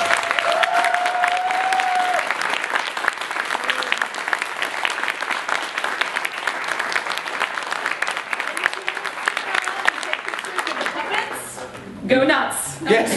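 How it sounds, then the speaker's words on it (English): A live audience at a sock-puppet game development talk bursts into sustained, loud applause with scattered cheers and voices, continuing steadily for over ten seconds before tapering off near the end. "another huge round of applause"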